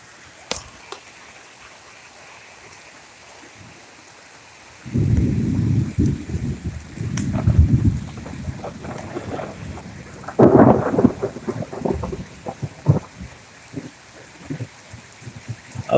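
A thunderstorm with heavy rain heard from a window: a quiet hiss of rain, then loud rolls of near thunder building from about five seconds in, with another sharp crack and rumble later over the steady downpour.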